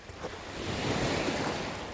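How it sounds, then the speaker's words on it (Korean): Steady rush of surf breaking against a rocky shore on Korea's south coast, broad and continuous with some wind noise, no voices. "아 파도 소리 좋다"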